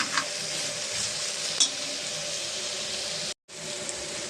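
Vegetable biryani ingredients with crushed garlic, cumin and ginger sizzle steadily in a pan while a utensil stirs and scrapes through them. A couple of sharper clinks stand out, and the sound drops out briefly near the end.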